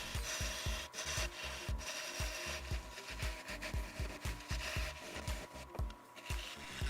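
Wood lathe turning a bowl blank while a tool shapes a tenon, a steady close rasping scrape with a fast repeating rhythmic thump from the spinning, still slightly uneven blank, with no voices.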